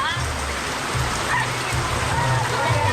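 Steady tropical rain falls in Naga City, Philippines, a constant close hiss of drops on hard surfaces, with someone talking over it.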